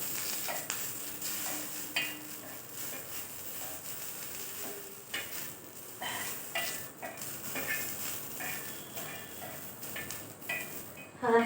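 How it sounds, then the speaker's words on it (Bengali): Green chilies frying in a pan in a home kitchen at night, giving a steady low sizzle with scattered utensil clinks and stirring scrapes, close and fairly quiet, with no talk. "আর এখন তো লঙ্কা ভাজছি"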